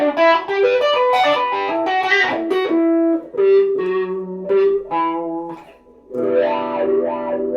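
Electric guitar played through a Sonicake Flip Wah pedal with distortion, loud sweeping wah tones over thick distorted chords and single notes, pausing briefly before a final sustained chord.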